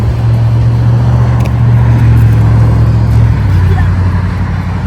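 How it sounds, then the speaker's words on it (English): A car pulls away and speeds off, its steady engine drone loud and close throughout, with the pitch dropping near the end as it moves off, while people talk over it. "He did zoom"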